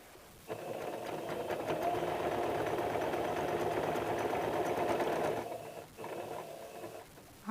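A sewing machine stitches the dart of a size 40 four-tuck blouse, running in one long steady whirring burst close up, then stopping briefly before a shorter second run.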